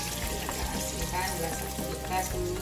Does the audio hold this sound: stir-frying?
yes